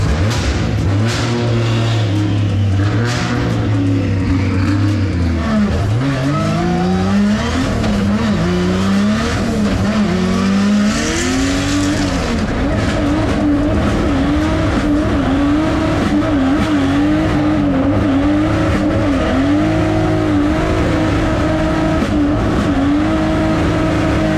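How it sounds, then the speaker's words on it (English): Pro drift cars, a Toyota 86 and a big Nissan R31, scream through a corner at a Hi-Tec drift round, with loud sustained engine revs and long tyre squeal and skidding continuing throughout, close and constant. "Glenn Omerod there throws it in the 86, and Ferrin is going to try and put the big R31 up on the back corner."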